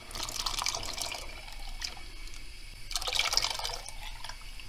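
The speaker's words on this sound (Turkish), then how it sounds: "Şimdi sütünü ilave edeceğim." About a litre of milk is poured into cooked rice in a pot to make an oven-baked Turkish rice pudding. There are faint, close splashing and trickling bursts, one at the start and one a few seconds later.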